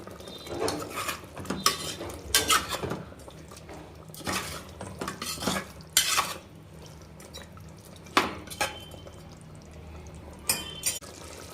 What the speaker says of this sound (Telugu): ఇప్పుడైతే బాగా మిక్స్ చేసుకున్నాము